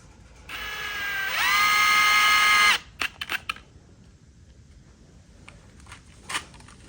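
A power drill whirs and ramps up in pitch for about two seconds as it drives a screw into a Lazy Susan, followed by a few clicks and light handling knocks.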